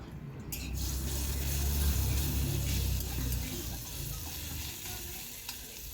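Garlic paste frying in hot oil with black cumin seeds and a slit green chilli in a wok, a steady close sizzle with soft stirring scrapes, swelling slightly midway, no voices.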